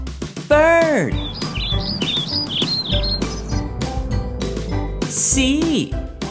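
Bright bird chirps and rising tweets repeat in quick bursts, loud and close, with musical accompaniment underneath and no spoken words.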